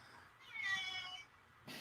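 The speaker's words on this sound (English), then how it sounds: "My cat, Billy, agrees." Single drawn-out cat meow, clear and close in a quiet room, rising then fading over about a second, with a brief faint rustle after.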